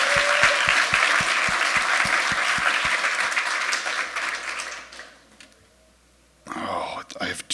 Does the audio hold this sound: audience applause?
yes